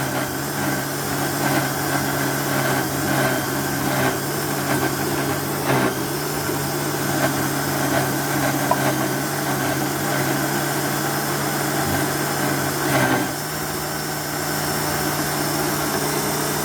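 A kitchen blender whirring steadily as it blends oats, peanuts and milk for Jamaican porridge, a loud continuous motor drone with slight dips and surges as the mix churns, running alone without voices.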